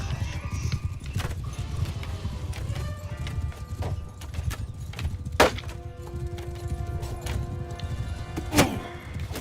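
Horse archers charging in the Mount and Blade II: Bannerlord battle game, a dense drumming of many hooves with occasional whinnies and sharp impacts over a rumbling battlefield, while someone talks over it.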